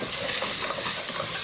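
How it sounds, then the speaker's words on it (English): Thai curry paste sizzles in a hot pan, an even crackling hiss with small irregular pops that runs steadily for a moment, close by and uninterrupted by talk. "All right, it's starting to sizzle in here."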